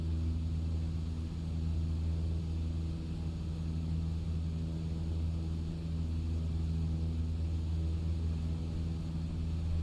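A small mail plane flying over the sea between the Shetland Islands, a constant loud propeller-engine drone with a steady low hum that holds evenly throughout, close and unbroken, no voices.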